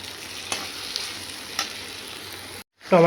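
Garlic frying in a pan for a Bengali katla fish curry, a steady close sizzle with a few scraping stir clicks, briefly cut to silence before a short burst of voice at the end.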